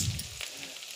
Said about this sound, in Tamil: தேவையான உப்பு போட்டு நல்லா வதக்குறேன்